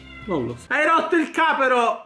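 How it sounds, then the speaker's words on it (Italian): A pet cat meows several times in a home, its loud, drawn-out cries alternating with a person speaking Italian close by. "sentirete il gatto che miagola"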